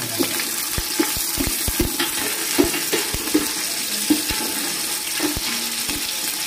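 Snails (kuhol) frying in a pan give a steady close sizzle with scattered light pops and taps of stirring throughout.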